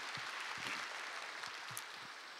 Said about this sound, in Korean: 힘찬 박수로 함께 올려드렸으면 좋겠습니다